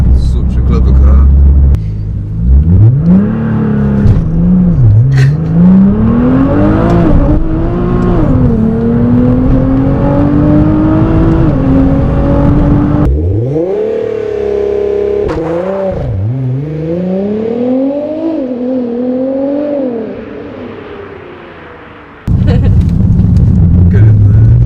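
A 680bhp Nissan GT-R R35 launches and accelerates hard on a wet road, its engine note climbing through rising revs and gear changes, loud and close from inside the car, with a brief dip before the engine surges again.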